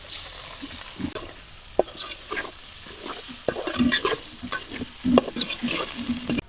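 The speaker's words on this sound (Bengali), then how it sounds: "পেঁয়াজ রসুন টালাই গেছে এখন আমি ডাল দিয়ে দেবো ডাল দিয়ে দিলাম" Lentils go into a pan of frying onion and garlic and get stirred. A loud, close sizzle runs under repeated scraping and clacking of the spoon, with no talking.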